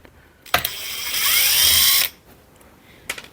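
Screws being driven out of a Makita LED torch with a powered screwdriver: a sharp click, a steady whirring whine of about a second, then a few faint clicks afterward.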